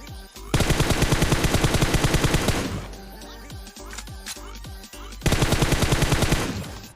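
Automatic gunfire in the PUBG Mobile video game, loud rapid bursts of rattling shots with a pause of scattered single shots in the middle, then another sustained burst, no talk over it.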